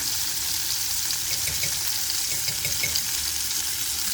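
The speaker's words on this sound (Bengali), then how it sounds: "আর এখানে মাছটা ভাজি হইতেছে" Silver carp fish fries in oil with black cumin, a soft, steady hissing sizzle at low level throughout, with faint bubbling crackles and no voices.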